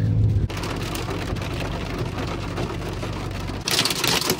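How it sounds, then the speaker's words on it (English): Hail pelts down outside during a thunderstorm in a dense, continuous patter of hits on surfaces that swells louder near the end, with no voices. "It is hailing outside."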